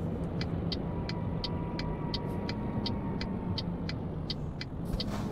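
Truck with a 6x4 chassis driving in Euro Truck Simulator 2, a steady loud engine and road rumble heard from outside the cab, continuous with no talk, with faint regular clicking ticks.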